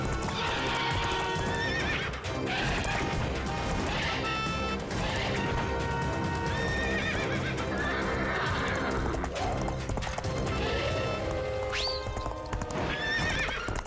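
A cartoon horse neighs and whinnies over rapid clip-clop galloping hooves, with crashes and whacks during a chase or fight scene. The sounds are loud and busy and come with music and effects.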